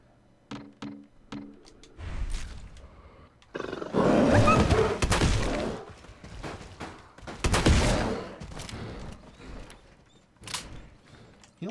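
Gunfire is aimed at a Deathclaw in Fallout 4, opening with a few clicks and thuds before loud bursts of rapid shots and roaring impacts take over, falling and returning in heavy waves with a hint of creature roars.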